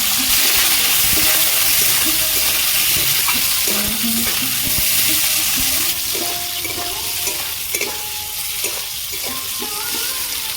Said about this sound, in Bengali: ওই তেলের মধ্যে আমি টমেটোগুলো ভেজে নেব